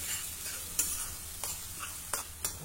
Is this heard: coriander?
yes